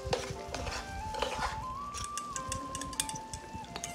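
Chili shrimp and peeled tomato stir-fried together in a pan, with steady scraping and light clattering from the utensil over a soft sizzle, close up, while a thin tonal line runs faintly in the background.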